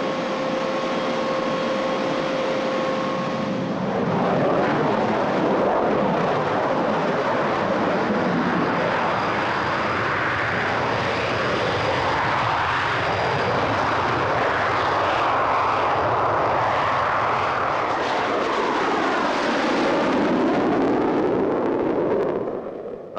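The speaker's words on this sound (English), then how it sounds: "Getting your aeroplanes away safely is one thing" Fixed-wing aeroplanes take off in a loud, continuous engine roar that swells and sustains for the full length, with a steady tone early on and propeller-like rumble, no talking.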